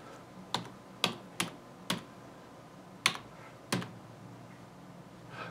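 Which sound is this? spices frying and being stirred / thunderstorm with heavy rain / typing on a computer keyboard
typing on a computer keyboard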